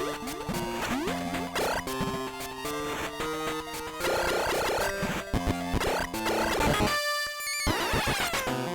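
Metroid II video game music for the first Metroid encounter: a dense, busy chiptune-style track with layered melodic lines and percussive hits, briefly dropping away near the end before resuming, loud and continuous with no talk.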